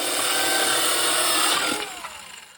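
A power tool cutting a wooden board, a steady loud whine for about a second and a half that then cuts out and winds down, with no talk.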